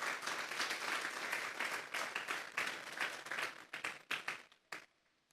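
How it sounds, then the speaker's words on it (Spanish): A church congregation claps loudly after the preacher calls for applause to the Lord, dense clapping that gradually thins into scattered final claps and fades out. "Denle un fuerte aplauso pues al Señor."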